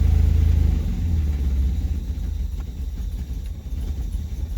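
A cold Austin Healey 3000 engine shudders with a heavy low rumble that weakens and sags as it falters toward a stall, loud and close with no talking.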